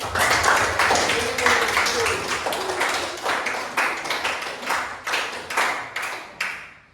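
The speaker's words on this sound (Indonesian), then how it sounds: "Tepuk tangan dulu untuk kelompok 1." Classroom applause for a presenting student group, scattered hand claps that start dense and thin out into irregular separate claps over several seconds, fairly close, with a voice speaking briefly.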